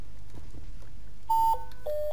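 A telephone signals in a modded Minecraft game, sounding as two short electronic tones, the first higher and the second slightly lower, over a quiet background hum.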